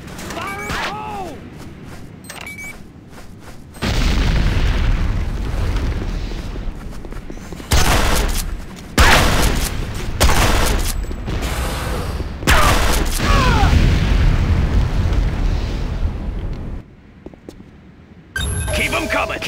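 C4 explosive detonating in the game Renegade, heavy booms and crashing blasts in several loud bursts over a dense rumble of battle noise, with game voice lines heard earlier.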